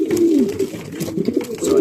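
Racing pigeons coo inside a loft, a close, steady low burbling call that swells and repeats across the short stretch with no voices.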